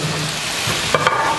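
Hanwoo beef stir-frying in a pan, a steady close sizzle with a few brief clinks and scrapes of stirring near the end, no voices.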